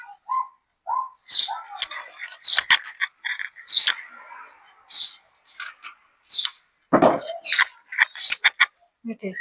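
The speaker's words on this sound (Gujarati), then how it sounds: "જોઈ લે, ચકલી બેઠી હવે." House sparrows chirp nearby in short, irregular bursts of bright tweets, with a brief voice heard partway through.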